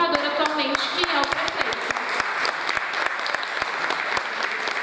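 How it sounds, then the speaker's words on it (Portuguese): Audience applause at a seminar talk on mayors and creative communication, a dense steady patter of many hands clapping throughout, with a few sharper individual claps standing out. "Essa salva de palmas é para vocês, para os comunicadores"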